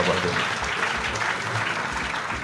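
A crowd applauds at the official launch of a political party, with dense, steady clapping that holds at an even level throughout the stretch.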